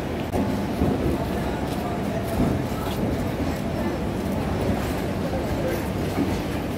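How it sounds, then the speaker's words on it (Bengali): A Haldia local train pulls into a station: a steady, heavy rumble of wheels and carriages fills the whole stretch, loud and close, with faint platform noise mixed in. "হলদিয়া লোকাল ঢুকে গেছে"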